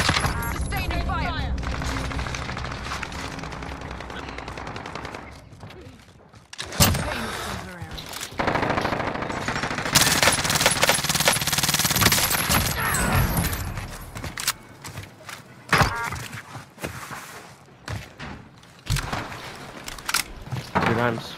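Gunfire in the Warzone video game during a MAC-10 match, bursts of rapid shots and booms that sometimes drop out to near silence, heard alongside a player talking.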